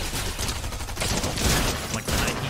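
Rapid shotgun blasts from a video game fire in a dense, loud burst of repeated reports throughout, with no voice over them.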